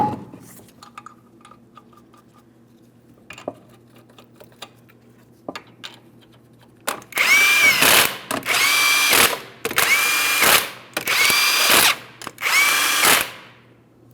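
A power tool spins 19mm lug nuts onto a Ford Edge wheel in five loud, close bursts of whirring and rattling, each separated by a short pause, after quieter clicks and handling noises.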